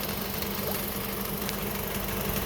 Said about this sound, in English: every time the AC comes on, there is a clutch for the AC that comes on